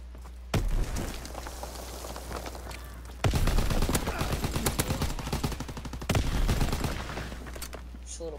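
Bursts of automatic gunfire in a World War II shooting game, loud dense volleys in three sustained stretches with sharp cracks on top, and a voice talking faintly underneath.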